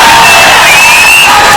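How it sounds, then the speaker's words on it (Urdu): A large crowd at a political rally for the All India Majlis-e-Ittehadul Muslimeen roars, cheers and applauds in a dense, continuous wall of sound, very loud and packed with shouts and whoops. "زوردار تالیوں سے وارث بھائی کا استقبال"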